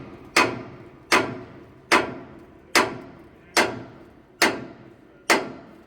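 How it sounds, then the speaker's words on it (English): A hammer strikes a bolt inside a steam locomotive smoke box, with seven sharp metallic blows landing at a slow, even rhythm, each ringing briefly before the next. "You need a bigger hammer on that, Al."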